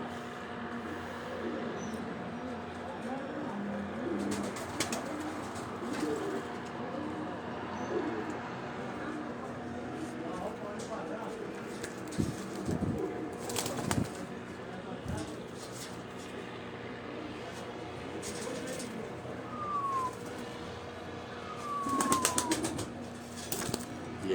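Pigeons on a rooftop coo in soft repeated calls amid faint background bird chirps and occasional wing flaps, with someone talking over the scene.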